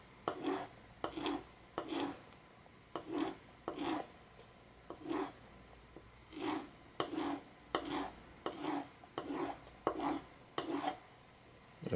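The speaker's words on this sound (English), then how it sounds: "polish the teeth also." Leather-working pricking iron teeth being polished by hand, a steady series of short rubbing strokes about once a second, close and fairly quiet, with no talking.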